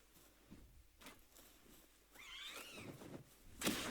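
Snowy cat-like creatures in the video game Palworld give a short, rising and falling meow in the middle, followed by a brighter burst, over a soft, quiet game backdrop.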